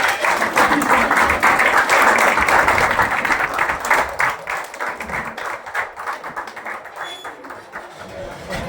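An audience at a team training session stands and claps to welcome a guest, a dense, loud burst of applause that slowly thins into scattered claps and fades over several seconds.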